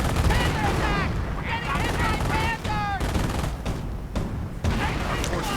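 A tank battle in a video game, with Hetzer and Pershing tanks in play, fills with rapid bursts of gunfire and heavier anti-tank gun shots while a commentator talks over the fighting.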